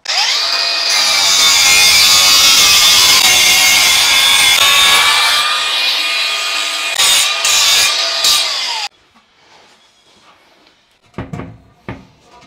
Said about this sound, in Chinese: 所以我在切的时候呢，把这个角磨机只要放平，沿着地切一圈